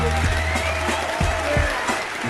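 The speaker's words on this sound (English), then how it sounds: "All right, round of applause for MC Whiteowl" Applause for MC Whiteowl during a live radio show set, a steady wash of clapping with a few louder low thumps, moderately loud and close.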